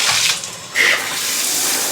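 A hotel bathtub faucet is twisted on and water gushes out at full pressure, a loud, dense rush with a brief squeak as the handle turns, pouring continuously.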